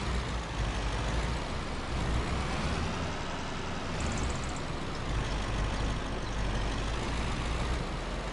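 A delivery truck drives close behind in Farming Simulator 25, its engine a loud, steady, broadband rumble that carries on without pause.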